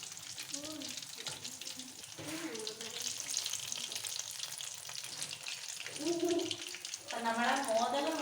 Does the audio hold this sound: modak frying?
yes